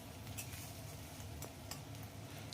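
Ginger-garlic paste sizzles steadily in a hot pan while a spoon scrapes and stirs through it in a few quick, clinking strokes, close and fairly quiet.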